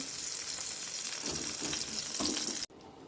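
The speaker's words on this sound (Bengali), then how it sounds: "এবারে বেগুনটাকে ভালো করে ভেজে তুলে নেব" Eggplant sizzles steadily in oil with a bright hiss, some bubbling and light stirring underneath, before a brief cut near the end.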